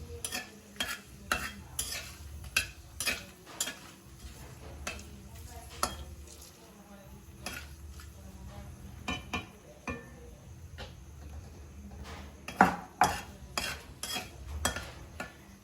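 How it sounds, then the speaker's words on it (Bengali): Bay leaf and dried chili fry in hot oil, giving a close, crackling sizzle, while a utensil scrapes and taps the pan in a quick, uneven rhythm throughout, with no voices. "তেলটা গরম হয়ে গেছে এবার তেজপাতাটা দিয়ে দিচ্ছি গরম হয়ে গেছে লঙ্কাটাও দিয়ে দিচ্ছি এবার একটু নেড়ে ছেড়ে নিচ্ছি"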